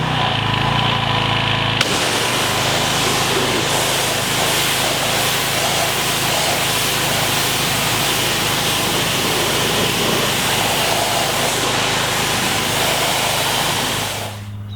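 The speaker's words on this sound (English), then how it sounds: "afterwards you'll just wash this off with either a pressure washer or a hose" Pressure washer rinsing iron remover off car paint, a loud continuous hissing spray with a motor hum, starting abruptly after a short lower drone and running steadily before cutting off at the end.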